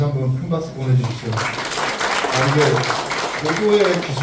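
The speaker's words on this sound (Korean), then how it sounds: "이렇게 다시 한번 큰 박수 보내주십시오." Audience applause at a Daejeon city council policy forum, rising after a man's speech and continuing as scattered clapping under brief talk.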